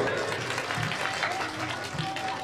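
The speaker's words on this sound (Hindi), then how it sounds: "तालियों से स्वागत करेंगे" Devotees seated since morning in a pandal after a jagran for Maa Vaishno clap together in welcome, a dense, steady patter of many hands filling the short stretch, with crowd murmur mixed in.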